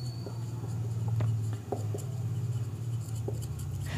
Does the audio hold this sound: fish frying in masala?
no